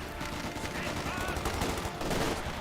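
Gunfire in the Company of Heroes 2 strategy game, dense overlapping rifle and machine-gun bursts in a continuous loud battle din, with a commentator speaking over it.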